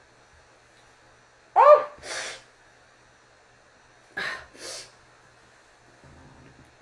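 A person sneezes twice, each a sharp sudden burst with a quick breathy follow-through, a couple of seconds apart in a quiet room, with a short exclamation at the first and faint rustling afterward.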